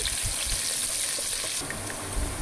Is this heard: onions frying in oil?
yes